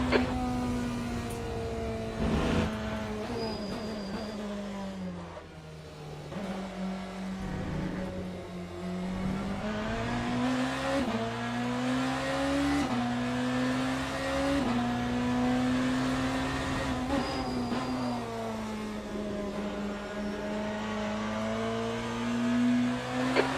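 Race car engine in the sim racing game Le Mans Ultimate, braking hard into a chicane with the left front wheel locking; a loud, steady engine drone rises and falls through gear changes and throttle lifts for the whole stretch.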